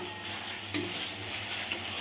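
Spice masala of ginger, garlic and onion being stirred and sautéed in a pan, a soft continuous sizzle with scraping of a utensil and one sharp clink against the metal.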